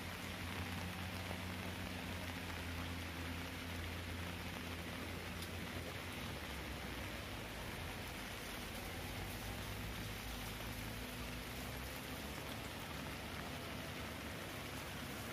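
Rain falls steadily outdoors on a hill road in Gowa during a bicycle ride, a constant faint hiss with no clear talk.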